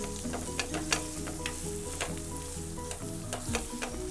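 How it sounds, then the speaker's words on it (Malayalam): Onions being stirred and sautéed in a pan for Kerala-style pepper chicken, a steady close sizzle with repeated scraping and clinking strokes of a spoon against the pan, with no voices over it. "ഒന്ന് നന്നായിട്ട് ഇളക്കി നമ്മളിത് സവാള നന്നായിട്ട് വഴറ്റിയെടുക്കണം."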